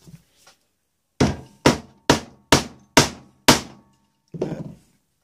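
Six sharp hammer blows strike a rivet into a leather tracker sheath, evenly spaced and close, each a crisp thunk with a short ring, followed by a softer scraping knock.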